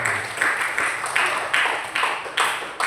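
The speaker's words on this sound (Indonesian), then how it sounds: "Tepuk tangan juga dulu untuk kelompok 1" Applause from a class audience for the first student group after their deepfake results, broad clapping in recurring swells across the whole stretch, fairly close and steady.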